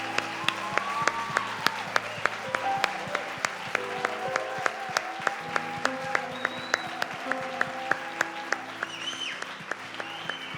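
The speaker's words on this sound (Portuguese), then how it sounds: "Vocês podem agora aplaudir a Deus pela vida do Juninho" A church congregation applauds and claps in steady rhythm over a live keyboard and band worship song, the claps sharp and even throughout.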